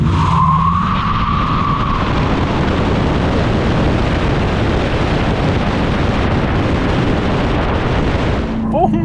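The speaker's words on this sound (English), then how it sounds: "It spins the rear tires. It spins the front tires too." 2024 Dodge Charger Daytona Scat Pack in drag mode spinning both rear and front tires, a loud sustained roar of tire squeal and engine noise lasting several seconds, with a brief voice at the start.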